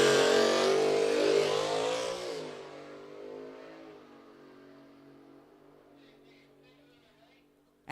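Drag racing car at the Rocky Mountain Nationals, pre-staged at the start line: a loud, sustained engine roar for over two seconds, then fading to a lower, steadier idle rumble before a sharp burst at the very end.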